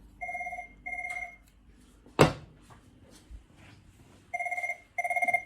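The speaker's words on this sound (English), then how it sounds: "now I should be able to call the Cisco phone in here" An office Cisco desk phone rings from an intercom call, giving two short electronic double-trill bursts, a sharp knock, then two more rings, fairly close in a quiet room.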